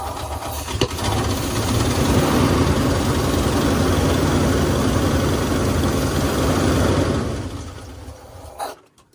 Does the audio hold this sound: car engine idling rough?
yes